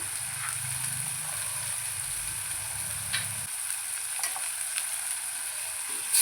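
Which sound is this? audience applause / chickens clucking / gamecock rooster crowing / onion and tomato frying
onion and tomato frying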